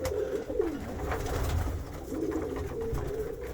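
Rock pigeons coo in soft, repeated throaty phrases, close by, over a low background hum.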